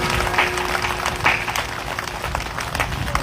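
Audience clapping steadily through a Hindi religious katha discourse, a continuous mid-level patter of hands filling the hall with a couple of louder swells.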